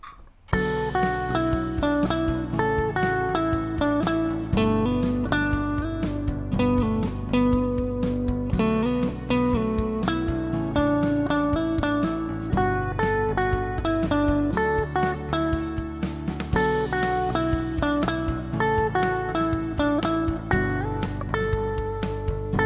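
A guitar plays a lively melodic solo of single notes over a steady, full backing, with smooth slides and quick hammered-on notes.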